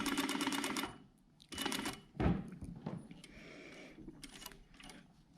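A sewing machine stitching around the curved bottom of a fabric scissor holder, running in short loud bursts with pauses between as the work is turned, with clicks and handling sounds in the gaps.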